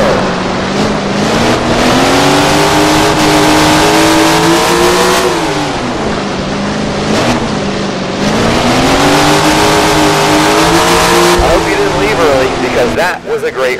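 410 sprint cars racing in the Tony Stewart Sprint Car Racing video game, engines loud and close, revving and rising and falling in pitch through repeated acceleration sweeps, with a commentator talking over them.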